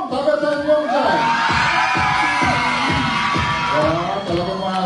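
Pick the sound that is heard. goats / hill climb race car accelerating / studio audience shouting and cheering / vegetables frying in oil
studio audience shouting and cheering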